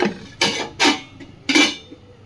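Metal lid set on a cooking pot of lentil-fritter and potato curry in a home kitchen, heard as three distinct clattering clanks spaced evenly, each a short metallic knock, with a faint tap between them.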